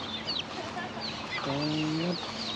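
Chickens cluck nearby in short, scattered calls with a few higher squawks, set against outdoor background noise, with a brief drawn-out voice-like tone partway through.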